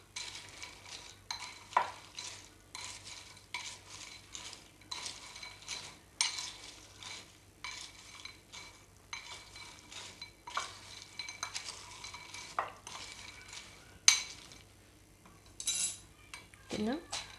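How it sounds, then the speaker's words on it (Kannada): A spoon stirs masala powder into hot roasted peanuts in a pan, with repeated close scraping and clinking strokes and a faint sizzle; someone speaks now and then. "ಇದು ಬಿಸಿಯಾಗಿದ್ದಾಗ ನಾವು ಮಸಾಲೆನ ಆ್ಯಡ್ ಮಾಡ್ಕೋಬೇಕು, ಮಿಕ್ಸ್ ಮಾಡ್ಕೋಬೇಕು ಚೆನ್ನಾಗಿ."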